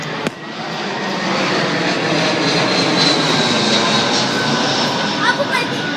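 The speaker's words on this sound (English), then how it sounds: "Hey, look, a plane." An airplane drones steadily overhead outdoors, a broad continuous engine roar holding across the whole stretch with a brief knock near the start.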